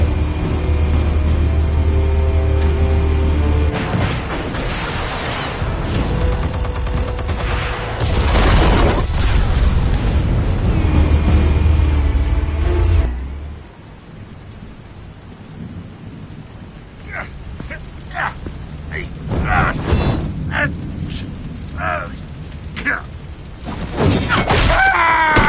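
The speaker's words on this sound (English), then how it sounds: "Explosives armed. Fire when ready." Explosives detonate in Batman: The Telltale Series, a long rumbling blast roaring loud for several seconds before dying to a lower crackling rumble, with a few sharper impacts near the end.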